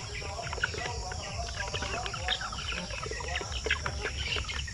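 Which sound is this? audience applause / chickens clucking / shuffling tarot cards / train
chickens clucking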